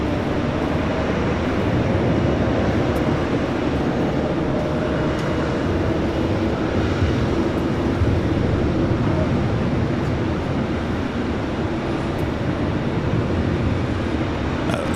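A United Boeing 757 rolls for takeoff at LAX, a steady, loud broadband jet roar holding constant and close throughout, with no breaks or talk.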